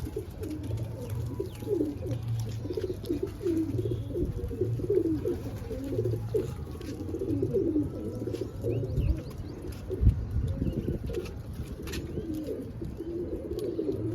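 Steady cooing of desi pigeons throughout, several birds with overlapping low throaty coos, with faint chirps and background rustle, no voices.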